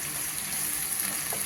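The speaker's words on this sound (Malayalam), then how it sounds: "സവാള ഇട്ടതിന് ശേഷം ഒന്ന് ചെറുതായിട്ടൊന്ന് ഇളക്കുക" Sliced onions fry in a pan for a Kerala pork and plantain roast, making a soft, steady sizzle close by with faint stirring and no talk.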